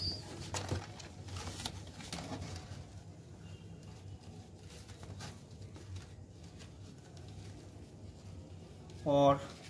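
Soft cooing and rustling from Andhra pigeons, including a young chick, with a short flutter of wings near the end, while someone talks over them.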